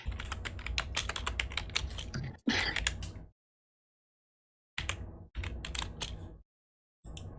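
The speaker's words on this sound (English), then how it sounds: "One moment, I'm just typing some stuff, trying to think." Rapid typing on a computer keyboard clatters close by in quick bursts of keystrokes, broken by a couple of silent pauses before resuming.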